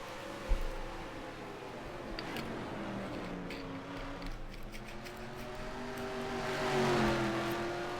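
Race trucks in the Turkey Hill Truck Series running side by side at Watkins Glen, engines droning and revving steadily throughout, swelling louder toward the end as they pass close.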